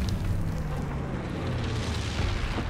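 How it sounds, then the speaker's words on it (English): Incendiary bombs from a low-altitude bomber run explode in Call of Duty WWII, a rumbling boom of fire and blasts rolling on for a few seconds with no talk. "Low altitude bomber inbound. Dropping incendiary."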